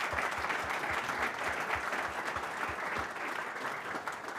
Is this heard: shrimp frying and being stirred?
no